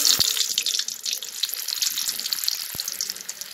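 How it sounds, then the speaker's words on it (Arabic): Flour-dredged fish lowered into hot oil on a rooftop cooking fire, giving a steady broadband hiss with a few sharp crackles and pops near the start and end, no voices. "هنحط بقى السمك كده في الزيت"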